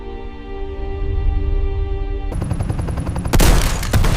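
A single sharp gunshot cracks out over a tense, droning music bed in a windswept Arctic setting, followed by a loud, lingering noisy rush.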